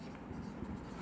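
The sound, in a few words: writing the final equation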